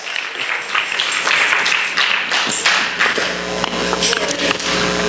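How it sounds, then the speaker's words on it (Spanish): Congregation in a church applauding as a strong hand of praise, dense sustained clapping with scattered thuds and taps, voices mixed in throughout. "Dale fuerte el aplauso."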